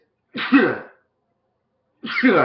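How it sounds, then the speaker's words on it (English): Two separate sneezes, each a short sharp burst, break the silence, the second following about a second and a half after the first, close to the microphone. "Oh, one sec, guys. Sneeze."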